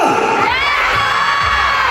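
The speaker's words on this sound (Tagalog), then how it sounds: "Lahat sumigaw ng Ghetto!" A large crowd at a meet and greet shouts a word in unison, a loud, dense burst of many voices with cheering that carries through the short moment.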